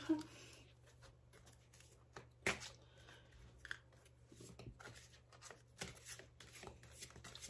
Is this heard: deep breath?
no